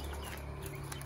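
Soft, high chirping and peeping of guinea fowl chicks in a cardboard box, steady and close, with a faint low hum underneath.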